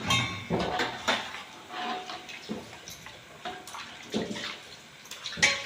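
A large batch of gobi 65, battered cauliflower pieces, deep-frying in hot oil, giving a steady crackling hiss with scattered metal clinks from a spoon or ladle against the pan, no voices.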